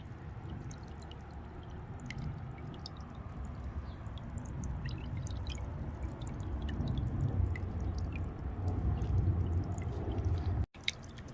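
Water from a fountain streams into a backyard fish pond, making a steady close gurgling splash with scattered drips throughout, ending with a brief knock.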